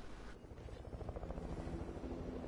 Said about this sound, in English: They're having a helicopter fight.